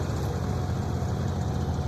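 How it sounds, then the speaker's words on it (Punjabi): A Sonalika tractor engine runs at a steady, unbroken drone, close and constant, with no speech. "ਸਾਡੇ ਗਲੋ ਦੇ ਨਾਲ ਨਾਲ ਤੁਸੀਂ ਟਰੈਕਟਰ ਵੀ ਦੇਖ ਲਓ"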